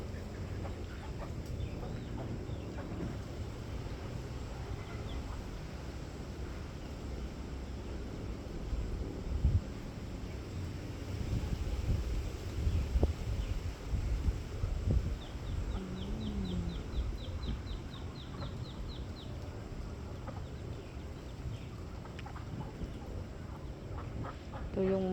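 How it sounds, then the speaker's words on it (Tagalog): Pekin ducks on a farm quack and cluck in a loose chorus, moderately near, with irregular calls rising in the middle, over a steady background hum. "Kay gandang pagmasdan ang mga pekin dak"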